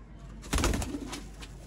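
A single Indian fantail (naak phata) pigeon gives one short, fairly loud coo up close, set against a faint steady background hiss.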